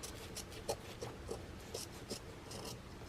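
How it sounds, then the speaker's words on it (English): Scissors trim away fabric during machine appliqué of circles, making a handful of quiet, soft snips and rustles spread unevenly across a few seconds. "So now I'm just cutting away"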